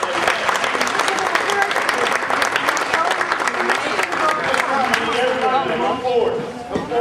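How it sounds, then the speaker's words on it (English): A crowd claps in dense, sustained applause at a West Point plebe-parent weekend event, loud and close, continuing for several seconds with a voice speaking over it near the end. "Ladies and gentlemen, let's give them a big round of applause"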